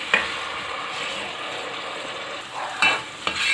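Finely chopped onion softening in a cup of hot oil in a deep pot, a constant close sizzle broken by a few sharp scrapes of a spoon stirring against the metal.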